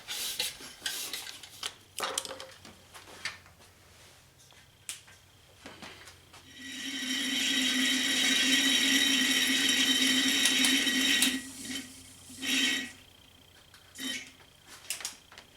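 A hand vacuum pump draws power steering fluid from the reservoir of a Bullitt Mustang, giving a steady mid-length hiss and gurgle that ends with a sputtering slurp, set among scattered clanks of tools.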